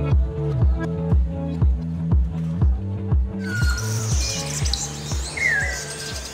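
Birds chirp and call in a bird park aviary in Singapore in the morning, a bright high chorus that rises after a steady rhythmic low pulsing sound and continues to the end.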